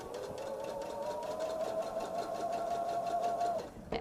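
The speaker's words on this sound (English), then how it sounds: "And start sewing a little bit." Sewing machine stitching jelly roll fabric, a steady fast mechanical whir with rapid needle pulses running for a few seconds before stopping, moderately close and without speech.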